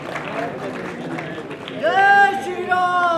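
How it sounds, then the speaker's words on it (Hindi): Loud applause welcoming a guest on stage at an event organised by a Jai Shree Ram trust, with crowd noise and voices first, then a voice ringing out over the clapping. "एक बार जोरदार तालियों से स्वागत।"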